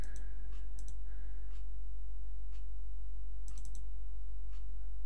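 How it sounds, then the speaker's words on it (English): A mouse clicks sparsely while someone plays Shanghai solitaire on an Atari ST. There are a few sharp single and double clicks over a steady low electrical hum, and no voices. "I assume this works just by clicking"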